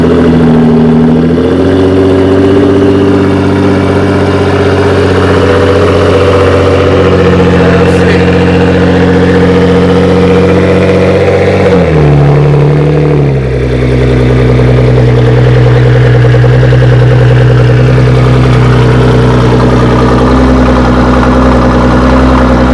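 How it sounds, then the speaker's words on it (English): A 1200-horsepower Nissan GTR idling loud and close after a cold start, a steady deep rumble that shifts pitch as the idle settles lower partway through. "Cold start up on the GTR"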